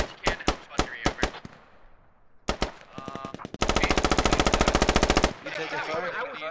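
Machine gun fire in the video game Squad: several short separate bursts, then a long, loud, sustained rapid stream of shots that cuts off abruptly, followed by more distant gunfire.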